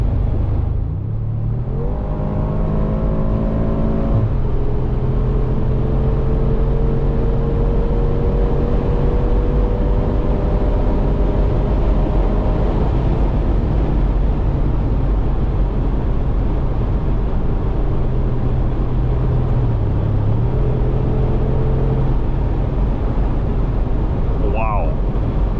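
A Mercedes G63 AMG facelift with its V8 engine drones loudly on the Autobahn, the pitch climbing through gears in rising sweeps with shift drops between them, a steady powerful roar over road noise.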